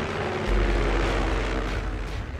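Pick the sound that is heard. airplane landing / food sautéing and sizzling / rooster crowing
airplane landing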